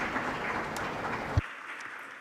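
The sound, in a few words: audience applause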